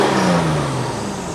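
Mitsubishi Verada Magna car engine revving up loudly and close by, with a steady mid-pitched drone that sinks slightly as the rev fades, heard alone without talk.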